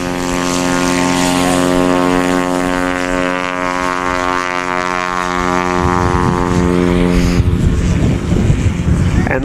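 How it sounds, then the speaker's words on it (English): A 1967 Cessna 182J with Ren modifications and double slotted flaps taking off at a STOL event in Tehachapi, California: a loud, steady propeller engine drone that swells as the plane passes, with wind buffeting the microphone. "the 1967 Cessna 182J with the Ren mods. He has double slotted flaps."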